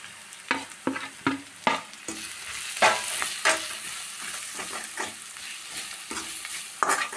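Masala and salt being stirred into curry in a hot pan, a spoon scraping in a run of sharp, irregular strokes over a steady sizzle of frying, close and fairly loud with no talking.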